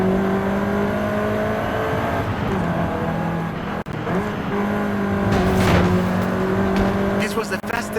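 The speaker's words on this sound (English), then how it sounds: "This version is the Volkswagen Golf R," A Volkswagen Golf R engine in the Forza Horizon 5 racing game drones at a steady pitch, loud and continuous, with brief shifts in tone and short bursts of tire or road noise.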